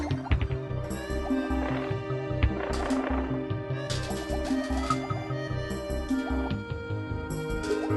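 Gentle, looping Donkey Kong Country level music with bright chiming melodies and soft percussion plays continuously at a steady, moderate volume.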